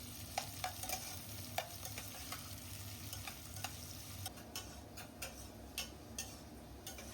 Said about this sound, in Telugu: ఇప్పుడు ఈ ఉల్లిపాయల్ని ఫ్రై అవనివ్వాలి.